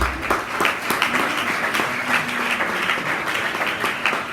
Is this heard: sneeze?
no